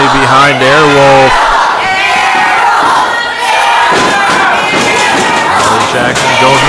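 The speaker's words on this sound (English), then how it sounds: "Crowd firmly behind Airwolf" A pro wrestling event crowd roars and cheers in an arena, loud and sustained, with a commentator's voice talking over the noise.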